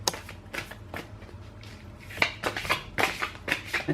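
Oversized tarot cards shuffled by hand in a series of crisp riffling bursts, close and fairly quiet, growing denser and louder toward the end with no voices.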